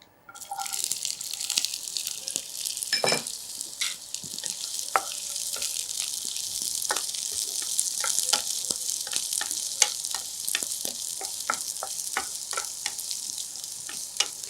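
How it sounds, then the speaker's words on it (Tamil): Steady, dense sizzle of onions frying in hot oil for chilli brinjal, with scattered crackles and pops throughout, close and continuous. "அதுக்காக இப்போ வெங்காயத்தை கொஞ்சம் நிறையா சேர்த்துக்கிறேன்."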